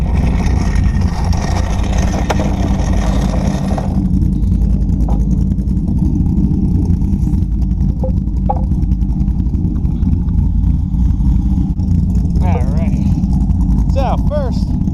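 A C5 Corvette idles with a steady, loud low rumble throughout, joined by brief clanks and faint squeaks toward the end.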